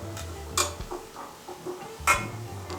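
Coriander powder being stirred in a pan for a Kerala fish curry: a spoon scrapes and knocks against the metal pan in a few sharp clinks and softer scuffs, close up with no talking.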